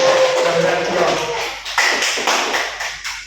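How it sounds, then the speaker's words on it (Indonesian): A classroom of students in a mathematics lesson claps hands together, a dense burst of near clapping that fades over about three seconds, with voices talking over it. "Kita kasih tepuk tangan dulu saudara."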